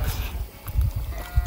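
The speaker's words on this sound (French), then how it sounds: "et des brebis. Et donc c'est ce que vous entendez en fond sonore." Sheep and goats in a farm sheepfold housing lambs at a shepherd's gîte, heard as low, rough animal calls in the background that recur through a continuous murmur of livestock.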